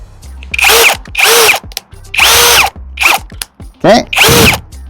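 A Litheli U20 20V brushless cordless drill driver whirs in five short bursts, each a high whine rising and stopping, with brief pauses between.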